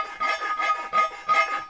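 Close, steady strokes of a circular file rasping on a metal casting on a 1/6 scale Armortek M26 Pershing tank turret, about five rhythmic scrapes with no talk.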